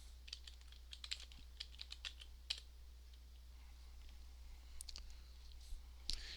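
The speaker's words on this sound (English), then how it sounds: "And let's type sample text." Typing on a computer keyboard, a quiet run of fast irregular key clicks with a short pause midway, close and faint over a steady low electrical hum, no voices.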